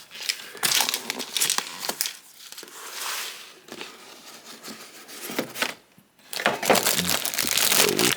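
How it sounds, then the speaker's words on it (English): Bands are pulled off a Bandai Pokémon Meowscarada model kit box, giving close, loud crinkling and crumpling with sharp snaps and rustles in irregular bursts, with no talk. "we'll have to open it by remove the bands securing the box here."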